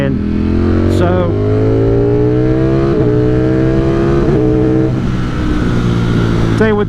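A 2021 Ducati Streetfighter V4 motorcycle accelerates hard, its engine rising in pitch and dropping sharply with each quick-shifted upshift, loud and close, several shifts in a row.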